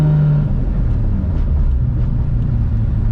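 A 1000+ horsepower MKIV Supra with a sequential three-speed transmission pulls hard from inside the cabin, its engine a loud, steady low rumble that swells continuously with no break.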